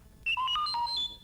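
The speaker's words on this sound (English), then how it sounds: "You will know it is time to turn the page when you hear R2-D2 beep like this." R2-D2 page-turn signal on a vintage Return of the Jedi storybook record: a quick run of bright electronic beeps and warbling whistle tones, clear and alone for about a second.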